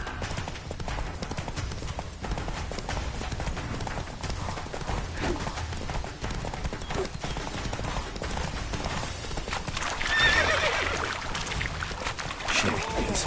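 Geralt's horse Roach galloping in The Witcher 3 video game, a steady rapid rumble of hoofbeats mixed with game sounds and occasional voices.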